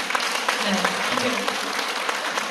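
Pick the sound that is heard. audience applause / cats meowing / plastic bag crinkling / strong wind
audience applause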